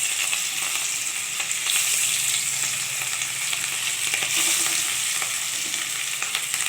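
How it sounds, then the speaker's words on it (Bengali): Fish frying in smoking-hot oil, a steady dense sizzle that fills the scene without pause, close and loud with no voices. "দেখুন এরপর আমি এক একটা করে মাছ দিয়ে দেবো আস্তে আস্তে।"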